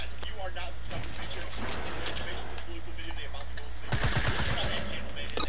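Video game gunfire crackling in rapid bursts, with a denser volley near the end, heard under a player's speech against steady background noise.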